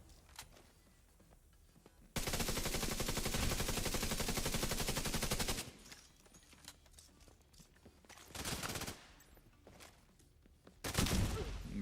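Rapid automatic gunfire in The Division 2, a long sustained loud burst followed by shorter separate bursts, with a quiet background between volleys.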